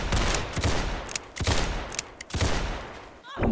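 Dense gunfire in a video game, with loud rapid volleys of shots broken by brief pauses, close and continuous, with no talk over it.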